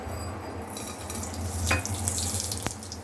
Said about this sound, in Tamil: இப்போ பொரிய விட்டு தாளிக்க போகிறோம் இப்போ கடுகு போடுறோம்